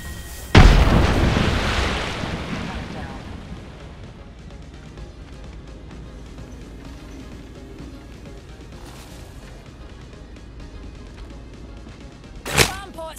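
Gunfire and explosions in the video game Apex Legends, opening with a loud blast that rumbles and fades into a steady din of combat, with a sharp burst near the end and a voice talking over it.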